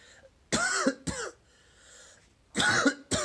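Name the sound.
cough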